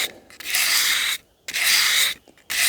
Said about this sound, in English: we're starting with a very rough 120 grit, is start stropping motions away